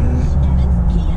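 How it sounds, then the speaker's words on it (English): A tuned 2017 L5P Duramax diesel pickup on a 9-inch lift with 37-inch tires drives along with a loud, steady low engine drone and rumble heard from the cab, with someone talking over it. "first time driving a tuned diesel truck, and it's fast"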